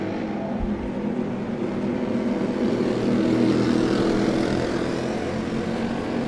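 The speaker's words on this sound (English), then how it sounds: "Looks like the racers are coming down the front stretch and have got the green light." Racing karts roar past together down a track's front stretch, a dense, steady wall of small-engine drone close by with no breaks.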